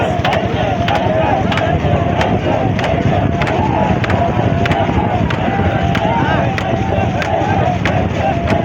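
A boat runs on a river, its motor or hull giving a loud, constant rumble with rhythmic knocking and heavy wind buffeting against the microphone throughout.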